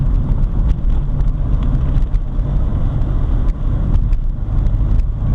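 A 1979 VW Rabbit with a 1.6-litre diesel engine cruising in fifth gear at about three-quarter throttle, with a steady, loud low drone of engine and road noise and some wind buffeting throughout.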